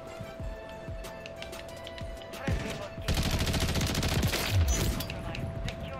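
Gunfire from Call of Duty MW3 with a BAL 27 rifle: scattered single shots at first, then a sustained burst of rapid automatic fire through the second half, loud and close, with game sounds underneath.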